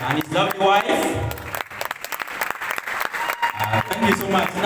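A crowd keeps up steady clapping for honored guests at the Mading Aweil community inauguration ceremony. The applause runs through the whole moment while an amplified voice talks over it.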